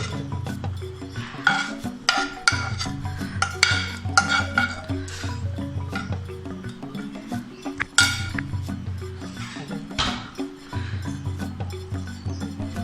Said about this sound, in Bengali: এবার আমি সবজিটা আস্তে আস্তে মিশিয়ে দিচ্ছি